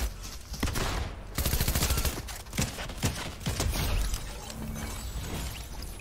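Dense automatic gunfire in a Fortnite match, rapid rattling bursts with mechanical clicks, loud and close, running almost continuously through the clip.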